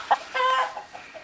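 A chicken on a farm in Doudrac gives a quick, loud, close cluck and then a brief drawn-out squawk at dusk in autumn.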